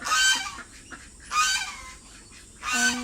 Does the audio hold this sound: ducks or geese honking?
yes